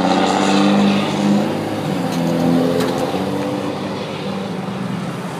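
Car traffic passing a cyclist on a road, a loud, continuous engine rumble that swells and eases in slow waves as vehicles go by close, with no talk.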